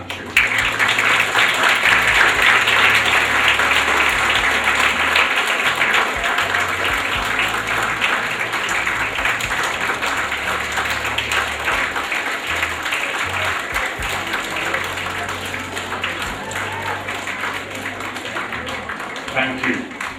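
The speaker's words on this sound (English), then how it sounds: "give them one big clap of thanks and gratitude" Schoolchildren at a 2012 awards and first graduation ceremony at Links School in Karachi, Pakistan clap for their parents and teachers in a loud, sustained round of applause lasting the whole stretch, with a voice occasionally heard over it.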